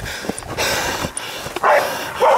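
Pig-hunting dogs closing in on a wild pig in the bush give a few sharp, close barks and yips in quick succession over a couple of seconds.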